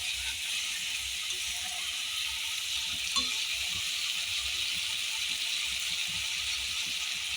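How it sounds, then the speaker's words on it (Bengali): A splash of water poured into a pan of sizzling spiced figs, a steady close frying hiss and bubbling that carries on throughout, with no voices. "আমি জলও দিয়ে দিচ্ছি সামান্য।"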